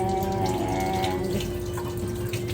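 Tap water running steadily into a sink while chayote is washed under it, a continuous close splashing stream with no talk.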